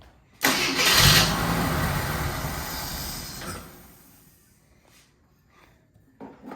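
An old Eagle car engine cranks and catches with a loud roar, then settles into a steady idle that fades and cuts out, followed by near silence.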